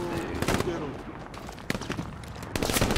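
Bursts of submachine gun fire in the World War II shooter Hell Let Loose, several sharp volleys separated by quieter gaps, with a voice briefly heard in the background.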